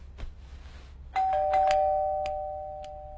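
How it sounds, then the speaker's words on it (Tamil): A calling bell rings once indoors, its clear sustained two-tone chime sounding loud and close and lingering as it slowly fades, with no talk over it. "calling bell அடிச்சதும்"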